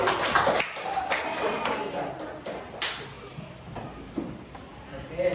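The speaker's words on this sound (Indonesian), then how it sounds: "Boleh Akila maju ke depan, tepuk tangan untuk Akila dulu." Children in an elementary school classroom clap for a classmate, a loose cluster of sharp close claps spread through the moment alongside background voices and room chatter.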